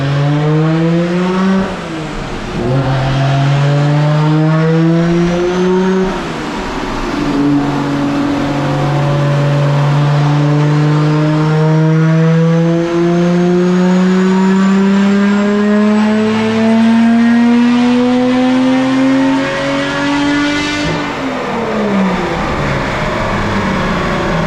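A tuned Nissan Skyline R33 GT-R engine revs hard and loud through a long pull, pitch climbing steadily, dropping at each gear shift, then rising again for about twenty seconds.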